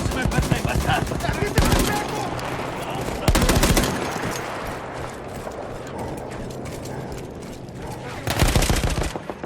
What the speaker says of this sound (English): cannone antiaereo sta abbattendo i nostri bombardieri!